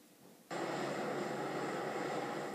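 Steady, loud engine roar of an Air New Zealand passenger plane painted in Hobbit livery, flying between Auckland and Wellington, starting abruptly after a quiet moment and holding constant without talk.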